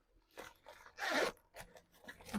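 A zipper slides open along the compartment of a pink bag, a short rasping pull up close, framed by a few lighter scrapes and handling sounds before and after.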